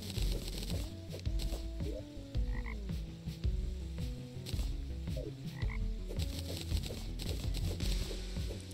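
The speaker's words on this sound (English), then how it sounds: "That's probably a nuclear toad." Croaking of a nuclear toad creature in the video game Terraria, a series of deep, repeated croaks over steady game music and effects throughout.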